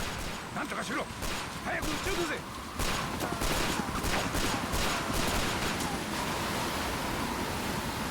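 Pistol gunfire aimed at a helicopter in the video game Yakuza 4, a rapid run of sharp shots in close succession over a steady, roaring background wash.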